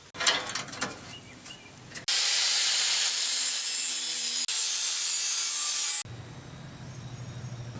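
Edge of a wooden dust chute being trimmed for a Yates American B244 bandsaw in a woodshop, with a loud steady machine cut held for about four seconds after a few light knocks, then a softer whirring run-down, no talk.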